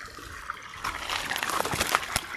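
Water pours steadily at the base of a tree on a sunny farm, a close, continuous trickling gush that thickens midway and carries a few sharper splashes.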